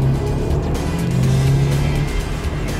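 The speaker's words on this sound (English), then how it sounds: "No wonder then it'll catapult the Audi S1 from 0 to 100 kilometers an hour" Audi S1 with a TFSI four-cylinder engine and Quattro drive accelerating hard, a loud, steady engine roar with rising tone that holds close for the whole stretch, no voices over it.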